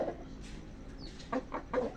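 A sick hen, recovering from green and white diarrhea, gives a few short clucks near the end, quiet and close, after a stretch of low background murmur.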